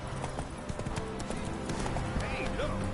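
Roach, a horse in The Witcher 3 video game, gallops in a rapid, rhythmic clip-clop of hooves with a brief whinny near the end, over a faint game background.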